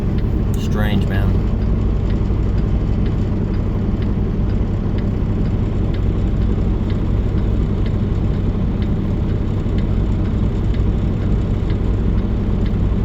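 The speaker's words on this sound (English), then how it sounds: "Look at all these cars, dude." Steady road traffic streams past on a busy roadway, a continuous loud roar of passing cars with no gaps, with a brief higher whine early on.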